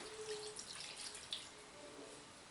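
A blend of essential oils poured into a lard-based lye soap mixture gives a faint, steady trickle of liquid with light drips, alone and fairly quiet throughout.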